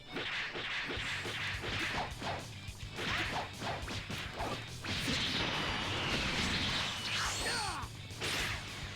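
Rapid combo hits in Dragonball Xenoverse 2, including a key blast cancel: sharp whooshes and whip-like strikes crack in quick succession, with a heavier crashing blast partway through, loud and busy.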